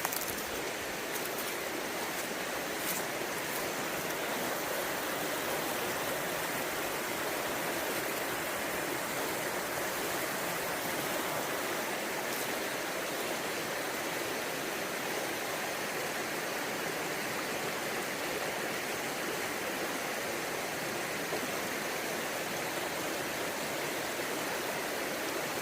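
The Broad River flowing past a greenway trail, a steady broadband rush of moving water heard alone and fairly soft throughout.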